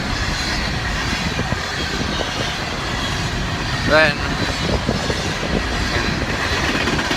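A train passes close by in a steady, loud rumble that fills the whole stretch, with a brief squeal near the middle and someone speaking over the noise.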